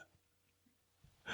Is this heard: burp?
yes